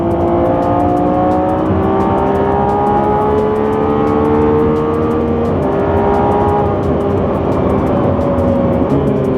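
A Lamborghini Revuelto accelerating hard from inside the cabin, with a loud, continuous engine drone that climbs in pitch through the gears and shows brief dips at the shifts, close and steady throughout with no talking.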